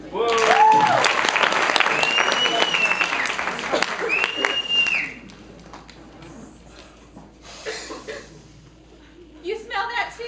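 An improv comedy audience claps and cheers for about five seconds, with whistles gliding over the clapping, before it drops to quieter scattered sounds and murmuring.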